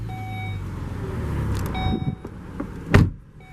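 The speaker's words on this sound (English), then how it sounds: "To start, foot on the brake and press right here." A 2013 Volvo XC70 with the 3.2 engine starting by push button: a steady low cabin hum and brief electronic tones, then one sharp burst as the engine starts, settling into a quieter idle.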